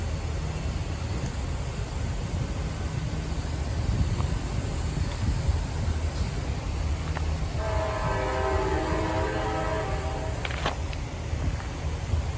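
An Amtrak train rumbles past on the main line with a steady rolling roar, and its multi-tone horn sounds partway through in a long blast followed by a short one, close and loud.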